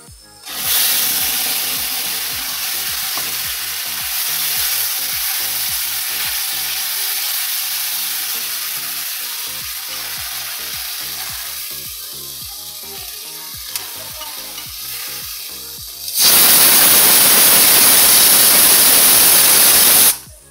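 Spice paste tipped into a very hot kadai fries with a loud, constant sizzle and rapid scraping stir strokes, then erupts into a much louder roaring hiss of steam near the end, close and without speech.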